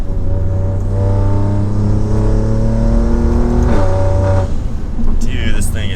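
A tuned 600 HP Alfa Romeo Giulia Quadrifoglio accelerates hard in race mode, its engine note climbing steadily, then briefly dipping at a paddle-shift upchange into second gear before pulling on, loud and close from inside the car.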